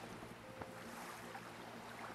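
A boat engine pushing slowly against waves on the Caspian Sea in the fishing game Fisher Online: a faint, low, steady motor hum blended with rushing water and wind, with no talking.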